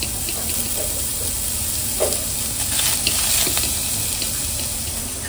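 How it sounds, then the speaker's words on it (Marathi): Onion and garlic frying in a pan for a Malvani-style tender cashew curry, a soft continuous sizzle with occasional stirring scrapes, close and fairly quiet. "कांदा आणि लसूण भाजून घेऊया."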